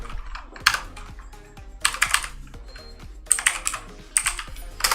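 Bursts of rapid typing on a computer keyboard, close and crisp, with short pauses between runs of keystrokes and no talking.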